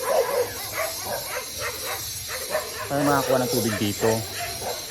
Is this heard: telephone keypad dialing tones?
no